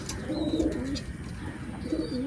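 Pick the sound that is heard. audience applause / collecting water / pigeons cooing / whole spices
pigeons cooing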